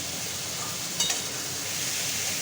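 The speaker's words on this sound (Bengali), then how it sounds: "চিংড়িটাকে আগে এরকম করে একটু মশলা দিয়ে কষিয়ে নিচ্ছি।" Prawns fry in a pan with onion, cumin, chilli and ginger while being stirred, giving a steady close sizzle with a brief scrape of the spoon partway through.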